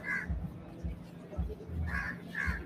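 A crow caws several times, with three or four harsh calls spread across the stretch, some spaced apart and others close together, over background chatter and murmuring voices.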